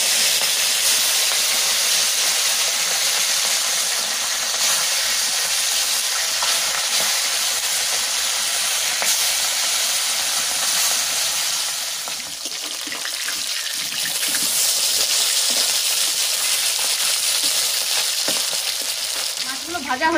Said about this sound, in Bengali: ছোট ছোট মাছগুলো ভেজে নেব।